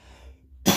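A single cough from a man with a lingering flu cough, close and sharp after a quiet breathy moment, heard alone.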